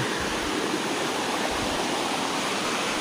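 Steady broadband roar of Ashokjhar waterfall in Jajpur, Odisha, with water crashing down from above, loud, close and continuous throughout, with no voices.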